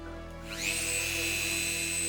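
A power tool whines up to a steady high-pitched spin after a quiet start, running continuously and close by, sanding a resin 3D print.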